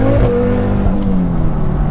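A 570 BHP Ford Focus ST engine roars at high revs under a steady, loud drone as the wheels spin at a drag launch, with a faint squeal above the noise.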